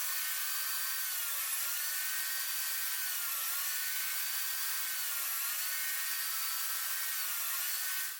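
A power saw hums at a steady high pitch while trimming small wooden Soma cube puzzle pieces, a thin continuous tone without the low end, fairly quiet and alone.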